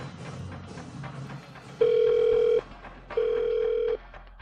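A telephone call rings out on the line after a short muffled lead-in, with two long steady ring tones separated by a brief pause, clear and close.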